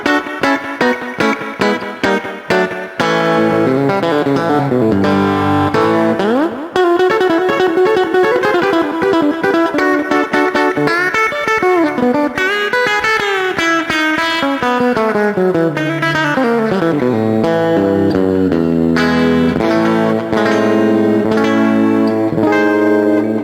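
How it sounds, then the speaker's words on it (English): Telecaster electric guitar through a red Dynacomp compressor pedal, analog slap-back and spring reverb into a high-headroom amp plays twangy, punchy country licks: fast plucked staccato notes, then bending sustained lines, loud and close, with no voices. "this is classic sort of Dynacomp red pedal Telly, a little analog slap spring reverb"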